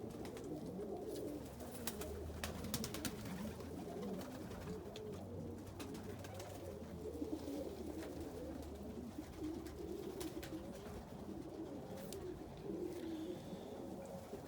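Pet pigeons cooing softly and steadily over faint outdoor background noise, with no voices heard.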